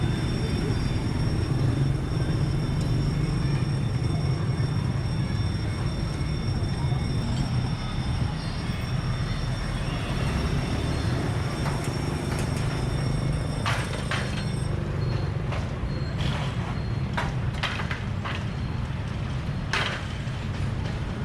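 A train approaching along Train Street in Hanoi, Vietnam, where the railway passes between buildings at a narrow level crossing: a steady low rumble fills the scene throughout, with some sharper clatter near the end and people murmuring in the background.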